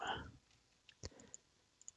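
A few sparse, quiet clicks of computer keyboard keys, isolated taps spaced out over two seconds after a brief burst of speech at the start.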